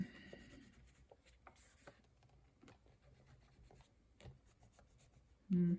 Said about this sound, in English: I think I'll try my Neocolor crayons